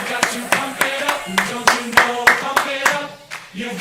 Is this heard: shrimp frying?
no